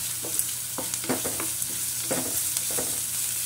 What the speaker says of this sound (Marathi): तर भोपळ्याचा किस घालायचा आहे. गाजराचा किस घालायचा आहे. सर्व भाजून घ्यायचं.